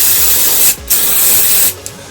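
Silicone shine spray hisses onto a Specialized Rockhopper mountain bike derailleur in two close, loud bursts separated by a brief pause.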